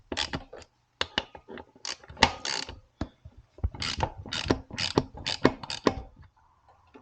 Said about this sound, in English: These are two 12mm bolts holding that on, so let's go ahead and break these loose.